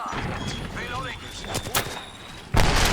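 Gunfire in a first-person shooter video game, a few scattered sharp shots followed by a sudden loud burst near the end, heard beneath a player's speech.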